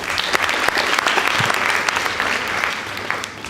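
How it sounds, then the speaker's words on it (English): Sustained applause from an audience at a school debate, a dense steady wash of many hands clapping that carries on for several seconds before tapering slightly at the end. "Please give them a round of applause."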